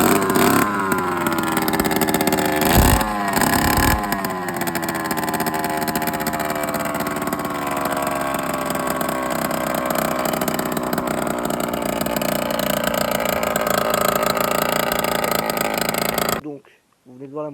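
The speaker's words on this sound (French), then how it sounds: "Donc, vous venez de voir la moto qui vient de démarrer." A freshly rebuilt Derby 50cc motorcycle engine is started and revved, with sharp rising rev sweeps early on. It then settles into a buzzy, wavering drone up close, while a person talks over it before it cuts out.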